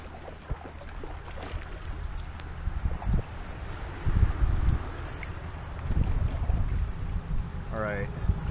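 A tandem canoe moves on the Upper Platte river in May, with rough wind buffeting the microphone and low thumps and splashes of paddles dipping into water, and a brief whistling tone near the end.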